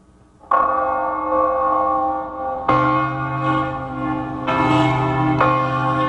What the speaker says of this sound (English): They're bonging the bells